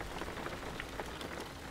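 Rain falling on a car, heard from inside with the window rolled up, a dense steady patter of drops on the roof and glass with no voices.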